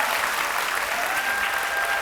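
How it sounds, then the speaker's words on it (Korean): A crowd applauds steadily and loudly at a talk, a dense continuous clapping with no breaks. "네, 박수 쳐주세요."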